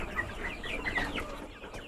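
Chickens cluck softly and continuously at close range, with a low murmur of farm noise behind them.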